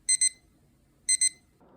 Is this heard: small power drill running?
no